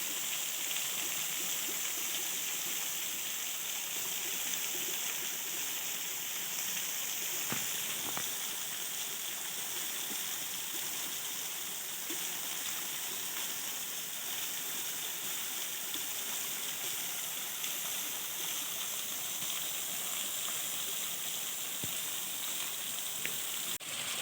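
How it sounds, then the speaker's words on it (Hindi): A monsoon-fed mountain waterfall and stream in the Neelum Valley, Azad Kashmir, rush continuously with a steady, hissing flow of water, moderately loud and unbroken, with no talking. "पहाड़ों के अबशारें, मौसम मानसून की अबशारें जनाब देखें कितनी प्यारी लग रही हैं"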